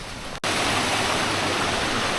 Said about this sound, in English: A waterfall coming up.